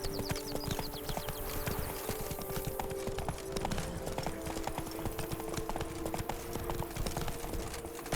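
Hooves of Roach, a horse in The Witcher 3 game, clip-clopping in a steady rapid trot, close and clear, with a brief whinny early on and no speech.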